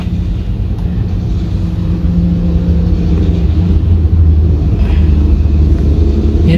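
A GoCar ride-hailing car on Jalan Raya Bogor Baru between Jakarta and Bogor, heard from inside as a steady, heavy low engine and road rumble that builds slightly, with no talk.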